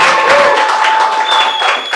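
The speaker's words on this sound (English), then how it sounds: "The round of applause." Game show audience breaks into a round of applause, dense steady clapping mixed with a few cheers, filling the room for a couple of seconds.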